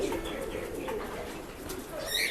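Pigeons at a pigeon sale coo softly and repeatedly at close range over faint background noise, with a brighter chirping burst near the end.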